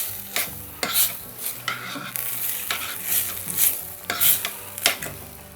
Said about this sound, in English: scrape the bottom of the pan, get all that nice fond off the bottom